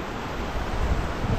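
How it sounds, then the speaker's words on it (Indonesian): Wind blowing at Teluk Mahkota beach in Sedili, Johor, a brief, steady rush of air buffeting the microphone with low rumbling gusts and a broad hiss. "Okey, ada angin. Ada angin."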